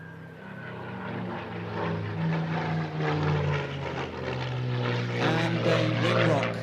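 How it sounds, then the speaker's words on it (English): A Spitfire with a Merlin piston engine roars past at an airshow, its throaty engine note swelling and shifting in pitch, with a voice talking over it. "Listen to this beautiful Merlin engine again."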